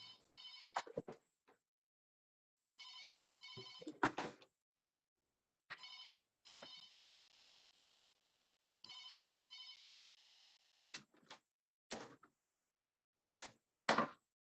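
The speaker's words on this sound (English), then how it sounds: "Sorry for the phone ringing." A telephone rings in repeated short electronic bursts separated by silence during an online disaster management training session, clear and fairly close with no speech over it.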